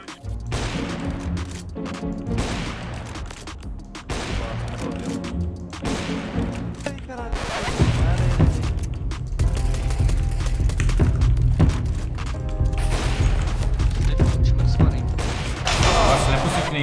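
Rapid bursts of gunfire in a shooter video game, repeated volleys and heavy shots crackling close and loud, growing denser and more intense in the second half, with a player talking over it.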